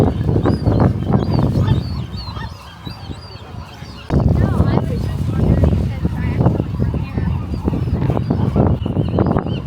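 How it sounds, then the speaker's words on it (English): Flocks of seabirds or geese on the rocky end of Alcatraz Island honk and call continuously and densely, close by, while a person talks over them. "So many birds out here on this end of the island."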